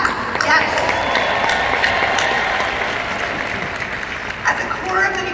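Convention audience applauding and cheering continuously at a product-launch event, a dense, steady roar of clapping and voices filling a large hall, with a few louder swells near the end.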